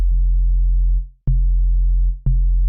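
Synthesized sine wave tone from the Ableton Operator synth, a loud, pure low hum repeated three times with a click at each restart and brief fades between notes; no speech.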